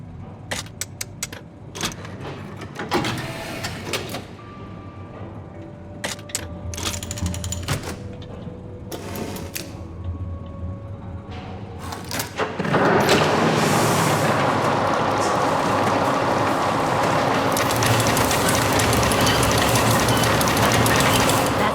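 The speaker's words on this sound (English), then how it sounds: "Looks like I need to put that key in the mechanism to activate it." A key-activated mechanism in Syberia: The World Before, in Vaghen's Musician District, gives scattered clicks and metallic clanks. Then it starts up into a loud, steady, rattling mechanical rumble that carries on alone to the end.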